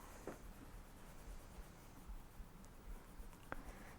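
Colored pencils scratch softly across paper while colors are laid down and blended, a faint continuous scraping with a few sharper strokes, quiet and close.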